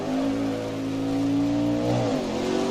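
A race car in Assetto Corsa pulls away from a hairpin on the Riverside circuit, its engine droning steadily and loud, then rising in pitch as it gathers speed, with no talk over it.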